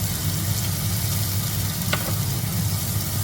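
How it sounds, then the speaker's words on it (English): Chopped onions fry in hot oil in a pan for a tadka, giving a steady, even sizzle with a low hum beneath and one brief clink partway through. "And fry the onions till they are nice and soft."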